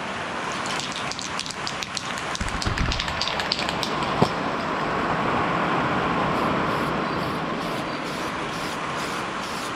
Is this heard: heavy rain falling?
yes